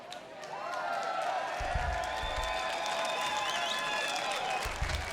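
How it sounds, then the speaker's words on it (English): A concert audience cheers and applauds a new song, with whistles and shouts rising over a steady wash of clapping and crowd noise. "Is that sarcastic cheer because it's taken him 30 years to write a song?"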